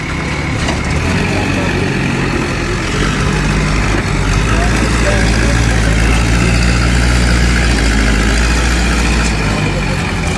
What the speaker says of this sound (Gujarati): આજે ત્રણ ટ્રેક્ટરોથી આ કામગીરી ચાલુ છે